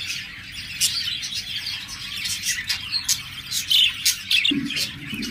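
A big-sized breeding pair of budgerigars chirps and tweets in quick, bright bursts, close and clear, with a short squawk near the end.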